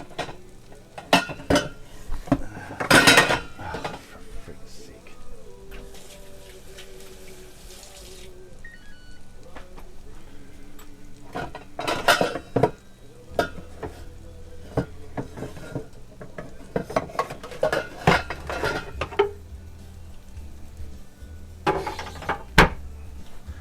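A second cooking pan gets handled on a stovetop, with scattered metallic clanks and knocks of pans and utensils against a quiet kitchen background, some louder bangs near the start and end.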